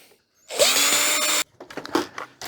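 A power drill runs for about a second, loud and close, while backing a screw out of a vintage 1991 HP LaserJet 3P printer being scrapped, followed by clattering handling noises.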